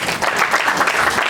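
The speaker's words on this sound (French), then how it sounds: "Sur une acclamation s'il vous plaît." A brief burst of dense audience clapping at a charity free-meal event in Douala, loud and continuous throughout.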